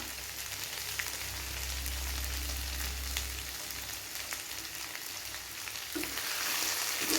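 Chicken chukka frying in oil in a pan as it is stirred, a steady crackling sizzle with a few scraping strokes and a low rumble early on, moderately quiet and without speech.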